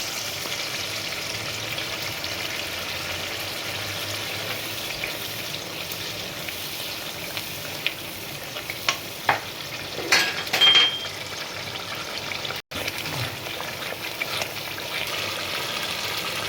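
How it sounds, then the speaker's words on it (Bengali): A paste of cashew, raisin, poppy seed and white mustard fries with eggplant in oil, a continuous steady sizzle with a few sharper clinks and stirring scrapes partway through, no voices. "এবার আমি দিচ্ছি কাজু কিশমিশ পোস্ত সাদা সর্ষে একসঙ্গে বাটা"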